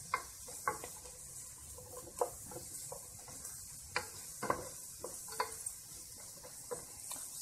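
Button mushrooms sauté in a pan while a utensil stirs and scrapes them, a steady soft sizzle under intermittent clinks and knocks against the pan, no voices.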